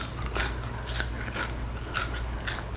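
Loud, crisp crunching of sweet and spicy Sriracha or Gochujang coated popcorn being chewed, several sharp bites spaced about half a second apart, close to the ear with no talking.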